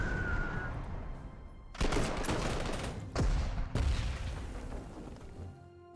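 Anti-aircraft fire during a bombing run in Panzer Corps II, set in the Spanish Civil War: a low rumbling bed broken by several loud bursts of flak and booming blasts, the last fading out.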